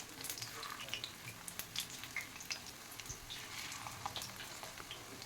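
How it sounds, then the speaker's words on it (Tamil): Raw banana slices fry in oil on a tawa with faint, scattered crackles and soft sizzling pops over a low, steady hiss. "இப்போ வாழைக்காய் ஒன்று ஒன்றா போட்டுக்கலாம் எண்ணெயில்."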